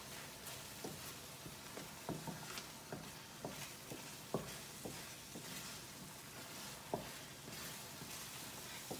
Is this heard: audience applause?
no